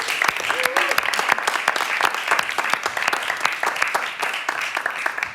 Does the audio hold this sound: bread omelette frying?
no